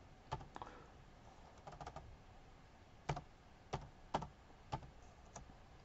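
Computer keyboard typing as a math function with a cube-root exponent is entered, a quick flurry of clicks followed by single spaced-out keystrokes, close but fairly quiet, with no voice.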